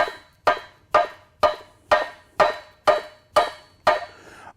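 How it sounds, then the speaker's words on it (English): Nine sharp metallic blows from a brass hammer driving a cam gear sprocket off an engine crankshaft, struck in a steady rhythm, each ringing briefly before the next, close and loud with no talking. "use a brass hammer to drive off cam gear sprocket"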